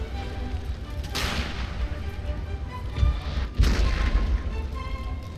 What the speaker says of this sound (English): I can't even tell whose cannon fire is whose anymore.